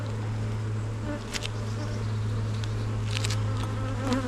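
A honeybee colony hums during a hive inspection, a continuous low drone of many wings with occasional closer buzzes of individual bees passing near, no talking.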